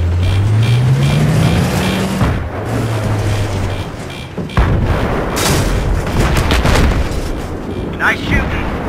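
Gunfire and heavy booms from a Battlefield 3 tank battle, with loud bursts and impacts over a continuous engine rumble, a deep droning tone early on and shouted voices mixed in.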